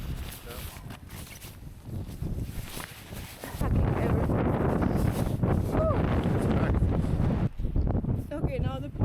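Strong wind buffets the microphone outdoors in Iceland during a storm, a loud, rough rushing roar that swells partway through and stays heavy, with people talking beneath it.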